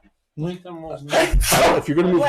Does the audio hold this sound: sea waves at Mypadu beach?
no